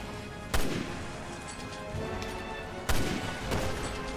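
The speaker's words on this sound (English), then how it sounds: "she is like wasting those Magnum bullets too" Magnum revolver shots in Resident Evil Revelations 2, two loud sharp cracks a couple of seconds apart, each followed by a booming tail over a steady game background.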